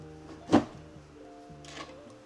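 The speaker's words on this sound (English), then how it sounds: "Then I'm gonna push it closed." A dresser drawer is pushed shut with a towel and a hair piece inside, giving one short muffled thunk near the start followed by quieter faint sliding noise.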